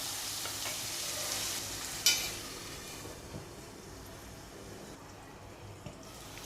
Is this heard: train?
no